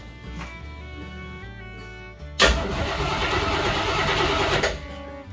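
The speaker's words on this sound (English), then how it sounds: "I'll crank it over one more time, just for the heck of it." A 1976 AMC Gremlin's AMC 360 V8 cranks with a rhythmic starter whir for about two seconds, then fires up with a loud sudden catch and settles into a rough, throaty run close by.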